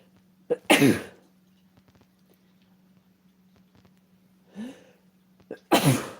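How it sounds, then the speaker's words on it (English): A sharp sneeze bursts out, followed a few seconds later by a quick sniff and a second forceful sneeze, close and loud against a quiet room with a faint hum. "Hang on, I'm going to sneeze."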